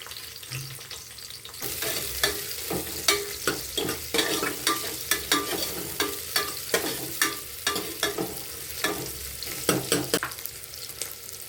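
Chopped onions frying in oil, dropped in with a burst of sizzle, then stirred with a steady rhythm of spoon scrapes against the pan over a continuous hiss, close and loud, with no talking.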